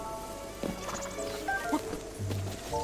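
Horse hooves clip-clopping and a neigh from a horse in the Zelda Breath of the Wild video game, fairly faint sounds under steady game background noise.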